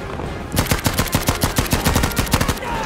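Automatic weapon fire in the shooter game Battlefield V, a loud rapid burst of evenly spaced shots that starts abruptly and runs continuously for over two seconds with no talk over it.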